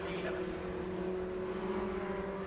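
Pre-1990 Formula Ford race cars at Brands Hatch give a steady, distant engine drone as they run through the circuit, holding an even tone throughout, with commentary faintly underneath.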